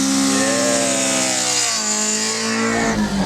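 A Toyota AE86 engine revs hard near 8,000 RPM while drifting in the rain, a loud, close, rising and falling high-pitched scream that holds throughout.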